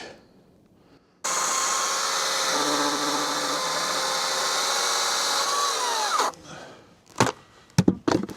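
A Ryobi HP 40-volt cordless chainsaw roars loudly through a red oak log for about five seconds, its pitch shifting as the cut goes on, then cuts off, followed by a few sharp knocks.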